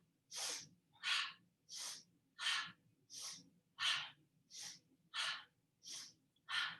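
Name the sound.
sharp inhales and exhales through the mouth, breathing exercise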